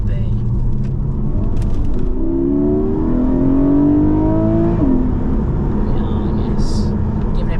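A Porsche 718 GTS 4.0 sports car engine idles with a deep rumble, then revs upward in rising pulls before dropping back, loud and close, with a voice speaking over it.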